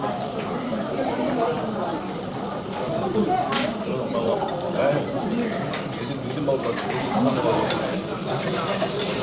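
Rice stir-fried in a busy Korean restaurant: steady sizzling and frying with scraping and stirring, moderately loud throughout, under diner chatter and conversation.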